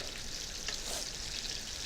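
A salmon fillet sears in a hot pan with a continuous close sizzle and faint spatter.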